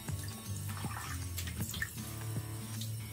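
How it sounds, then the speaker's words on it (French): Water runs from a tap into a sink for rinsing after a shave, a soft steady splashing stream heard close with faint clinks. "Allez, je vais me rincer."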